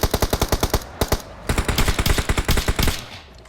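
Rapid automatic gunfire in PUBG Mobile: loud, close bursts of evenly spaced shots, a first burst of about ten rounds, a short pause, then a longer sustained burst.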